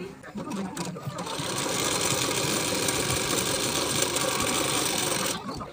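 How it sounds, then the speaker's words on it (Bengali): Sewing machine stitching a folded hook strip onto a 38-size bra-cut blouse, one continuous loud, close run of rapid whirring with a quick start and stop. "এর উপর থেকে আপনারা মেশিনে সেলাই দিয়ে নেবেন"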